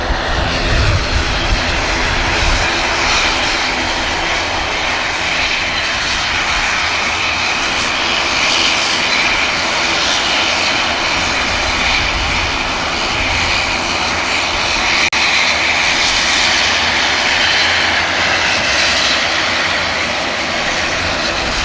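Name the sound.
Turkish Airlines jet taking off for Istanbul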